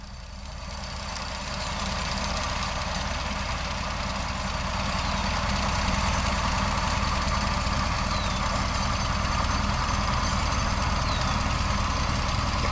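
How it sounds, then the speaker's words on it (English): A John Deere 630 tractor pulling a John Deere 37 pull-type sickle bar hay mower through a large field, its engine a steady, loud, close chugging drone with a rapid mechanical clatter, running alone throughout. "he's running the John Deere 630 today"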